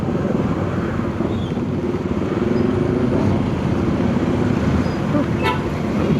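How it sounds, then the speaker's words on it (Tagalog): Steady road traffic in Angeles City on a rainy day, with cars and motorcycles rumbling continuously nearby and a faint horn toot near the end, heard from a riding vehicle without talk. "Dito pala yung ma-encounter natin traffic."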